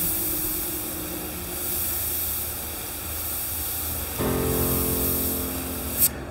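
An airbrush sprays paint in short dagger strokes, held very close to the surface, giving a steady loud hiss of air that rises in force partway through and then cuts off at the end.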